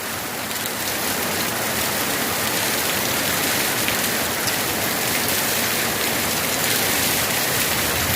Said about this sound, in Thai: วันนี้ฝนลงหนัก